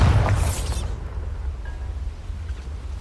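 A Bombarda explosion spell in the video game Hogwarts Legacy: one loud, deep, close boom with a sweeping burst that quickly fades into a low rumbling tail.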